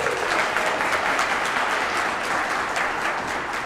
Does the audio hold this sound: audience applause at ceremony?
yes